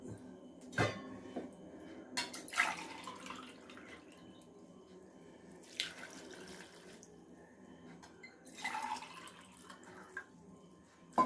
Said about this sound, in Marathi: दीड ग्लास पाणी घालून हे मी पंधरा ते वीस मिनिट उकळून घेणार आहे